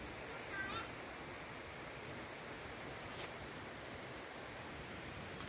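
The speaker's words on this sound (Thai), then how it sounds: "น้ำตกตาดกวางสีเนาะ" Tad Kuang Si waterfall in Laos gives a steady, even rush of falling water, a faint, constant wash of noise heard from some distance, with no clear voices over it.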